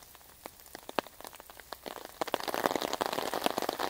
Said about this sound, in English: it's another wet day in Aghadowey